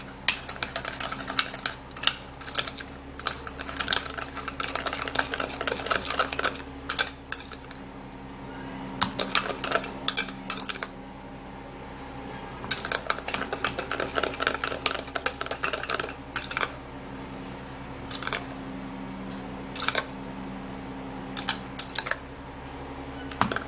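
Spoon scraping and clinking against a bowl while stirring ingredients into sugar for a homemade hand scrub, a busy run of irregular taps and scrapes at close range with brief pauses.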